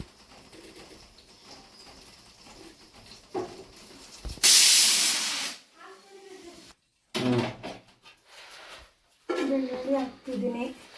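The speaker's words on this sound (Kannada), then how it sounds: "ಈಗ ಸ್ವಲ್ಪ ಎಣ್ಣೆ ಹಾಕ್ಬಿಡ್ತೀನಿ." Urad dal and chana dal hit hot oil in a pan while making puliyogare, giving one loud, brief sizzling hiss between stretches of talk, with a voice speaking before and after.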